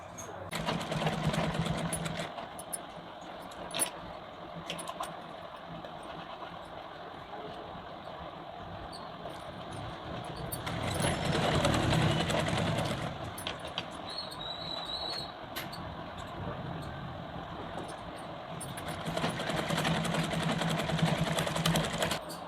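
Sewing machine stitching piping onto a sleeve design, a steady mechanical whir running throughout with a couple of louder bursts, close and continuous, no talk.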